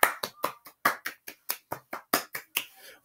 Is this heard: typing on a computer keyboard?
no